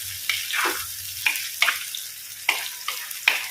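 Fish coated in turmeric, salt and raw masala fries in a pan, a soft background sizzle broken by several sharp crackles and stirring scrapes at irregular intervals, with no one speaking.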